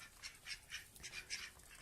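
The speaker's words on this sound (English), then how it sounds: "They're pecking those cucumbers. Oh, look at them pecking. Those are some good ducks pecking." Ducks pecking at cucumbers, a quick run of bright, regular pecking and dabbling taps with soft duck noises, close and fairly clear with no talk.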